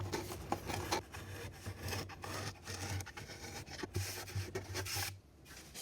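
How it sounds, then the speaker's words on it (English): Steady rubbing and scraping of a sanding block on the wood edge banding of a TV console, with short repeated strokes and a brief pause near the end. "a quick little touch up with the Grit Grip sanding block"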